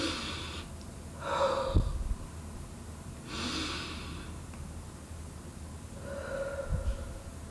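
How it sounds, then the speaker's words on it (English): Slow, deep breaths in and out come close to the mic, three or four airy swells spread evenly apart, each rising and easing off without any talk. "Take a deep breath."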